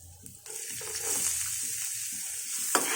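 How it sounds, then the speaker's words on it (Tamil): Chopped onion with fennel seeds sautés in oil in a pan, a steady close sizzle with stirring scrapes and a few louder bursts. "சோம்பு பொரிஞ்ச உடனே ஒரு வெங்காயம், பெரிய வெங்காயம், ஒரு வெங்காயம் பொடிசாக அரிஞ்சுக்கோங்க"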